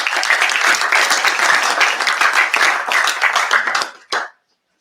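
A conference audience at an inauguration event applauds Philippe Merlot as he comes on stage, with loud, close, dense clapping that carries on for about four seconds and then cuts off sharply.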